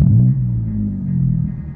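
A low, throbbing car engine without an Akrapovič sport exhaust rumbles and rises slightly in pitch as it revs, a close, steady drone without talk.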